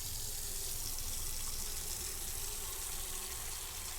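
Water runs steadily from a tap into a container in a simulated autopsy room within a video game, a continuous close hiss of flowing water with no speech.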